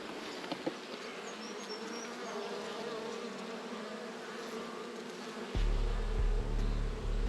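Honeybees buzz steadily around the frames of a nucleus hive, a close droning hum with single bees passing nearby, and a louder low rumble sets in near the end.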